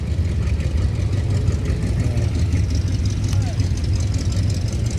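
A custom hot rod engine with badly adjusted timing runs at a street cruise, a close, steady, rough low rumble, with voices murmuring faintly underneath.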